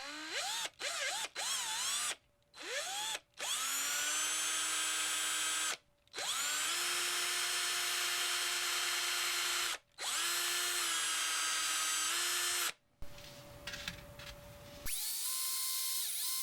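A power drill boring the line-tie hole in a handmade mouse-style fishing lure, a steady high whine in several long runs broken by brief pauses and a last short burst, close and loud with no talk.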